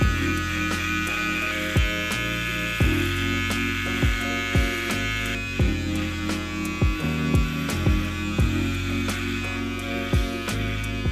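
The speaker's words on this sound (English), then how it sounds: "the trimmer I'm using now just cuts a little bit closer than the one I had before" An electric hair trimmer buzzes steadily at close range during a skin fade haircut, its hum broken by repeated short clicks and bursts as it moves over the head.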